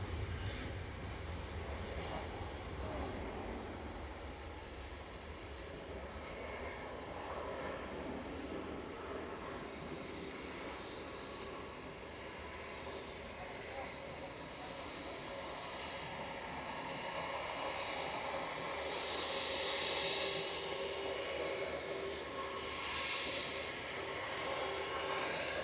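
An airplane departs Manchester Airport for Heathrow, its jet engine a broad, continuous rumble that swells slightly in the last third as it draws nearer.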